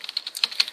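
Rapid, crisp keystrokes on a computer keyboard tap out a DOS mount command, about ten close clicks in quick, slightly uneven succession with no talk.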